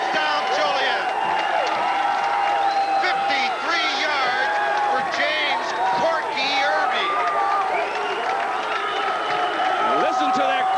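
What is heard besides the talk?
crowd cheering at a high school football touchdown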